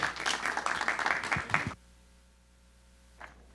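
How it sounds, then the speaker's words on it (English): Brief round of applause from a tech conference audience welcoming a speaker, a dense burst of clapping that ends abruptly, followed by quiet room tone. "please give a round of applause for Nidhi"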